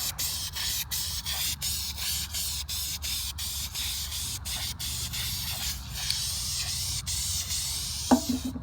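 Ace paint and primer all-in-one satin enamel spray can applied to a squirrel-hole repair on a porch; a run of short hissing spray bursts with brief gaps between, close and loud, then one sharp knock near the end.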